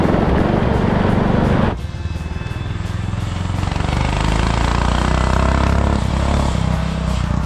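A small engine from a modified fast lawnmower runs loud and close, holding a steady rumbling idle before climbing into a harder, rising rev toward the end.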